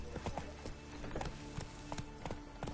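Horse hooves clip-clopping in the video game The Witcher 3, an even trotting beat of hoof strikes over a low ambient bed, heard alone without talk.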